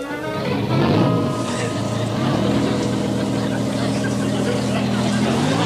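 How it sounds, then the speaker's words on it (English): Engines of a World War II PT boat turning over and running loud and steady with a rumbling low drone, while voices talk over them. "Start the engine."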